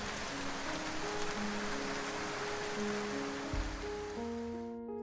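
A rain sound effect in a children's storybook reading hisses steadily beneath a soft, simple melody, then cuts off abruptly at the end.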